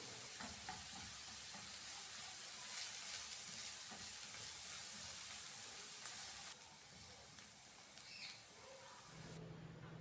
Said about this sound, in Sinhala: දැන් අපි මේ ටික හොඳට තෙම්පරාදු සුවඳ එනකන් තෙම්පරාදු කරගමු.